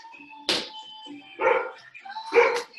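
A dog barks outside the house, three separate barks roughly a second apart, moderately loud and slightly distant in an otherwise quiet room.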